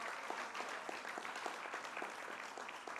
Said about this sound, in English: Let's have a big round of applause for County Executive Joni Mahoney